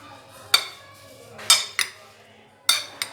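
A spoon clinks against a bowl while fruit chaat gets tossed with chaat masala. Four or five bright metallic taps land at uneven intervals over a soft, low background.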